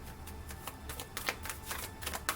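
Tarot cards being shuffled, soft quick riffling bursts repeating in an uneven rhythm over a quiet room hum, close and faint, with no talking.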